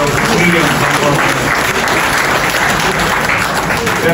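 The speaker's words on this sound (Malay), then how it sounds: "kita bagi tepukan gemuruh pada Puteri yang bersama" Loud, dense, thunderous applause fills a UMNO Youth political gathering in Batu Pahat, a steady roar of many hands clapping, with voices faintly mixed in.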